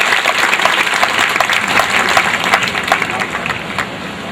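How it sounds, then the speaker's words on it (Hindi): A large gathering bursts into loud, sustained applause for the guest of honour, a former Mumbai commissioner, at a community conference; dense clapping fills the hall without pause, with faint murmurs underneath. "जोरदार तालियों से इस्तकबाल कीजिए मेहमान खुसूसी का"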